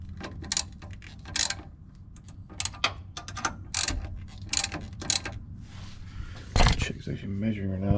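A ratchet tightens a sway bar linkage bolt on a GMC Sonoma/S10/Colorado, making scattered bursts of close metallic clicking, with a mechanic talking quietly beneath the work.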